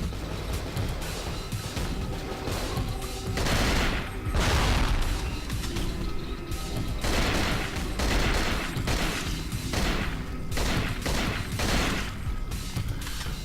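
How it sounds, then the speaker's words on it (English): Loud, dense gunfire from the horror shooter game Cold Fear, with sustained bursts of rapid shots and booming impacts rolling over each other throughout, no speech. "That guy's actually firing at me"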